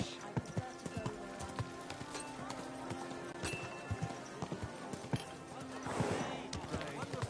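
Steady horse hoof clip-clops in Kingdom Come: Deliverance II trot along in a regular rhythm, with a bustling market background and a brief burst of noise near the end.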